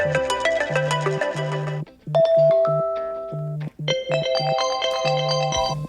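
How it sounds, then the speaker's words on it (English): An iPhone plays a melodic electronic ringtone preview, a bright chiming tune of repeated synth notes over a bass pulse, with two brief breaks where one preview ends and another begins. "We can select any of these ringtones."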